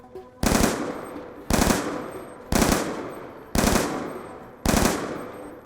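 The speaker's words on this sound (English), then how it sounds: "with the AN-94, it turns it into a 2-round burst instead of 3." AN-94 rifle firing two-round bursts in Black Ops 2: five evenly spaced bursts, each a tight double crack with a short ringing tail, loud and close with no talk.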